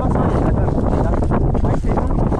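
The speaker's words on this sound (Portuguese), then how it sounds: "Tá ventando muito." Strong wind on a trip to an island, buffeting the microphone with a loud, continuous low rumble that swells and dips, close and overwhelming.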